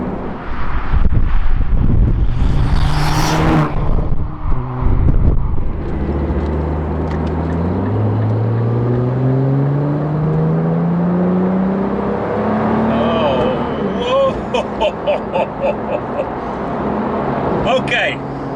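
A 2017 Nissan GTR with a Stage 4 Litchfield upgrade making 675 bhp pulls hard through the revs, its engine note climbing steadily as the turbos spool up, loud inside the cabin with wind noise and a voice talking over it.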